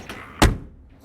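A heavy, thick door on a 1950 Lincoln Cosmopolitan sedan with a 337 cubic inch flathead V8 swings shut with one solid, close thunk that quickly dies away.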